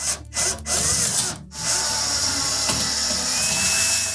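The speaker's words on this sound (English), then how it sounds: "Then we'll tighten those screws for the terminal blocks." A power screwdriver runs in steady whirring bursts, close up, while tightening the terminal block screws on a Whirlpool range, with short pauses between the runs.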